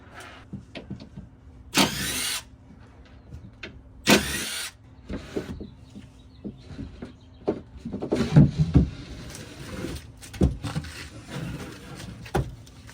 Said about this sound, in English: now that that's apart, we'll unscrew all the screws that hold that panel on.